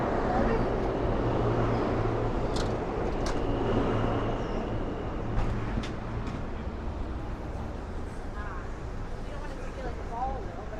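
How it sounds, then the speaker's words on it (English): Steady low rumble of a subway train passing underground, heard through street grates on 6th Avenue in New York City, with city noise and faint talk over it. "If you hear the trains running below us through these grates"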